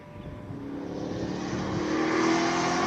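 A BMW V10 race car launches off the start line at a hill-climb speed event, its engine note rising steadily in pitch and intensity as it accelerates hard, heard continuously with no talk.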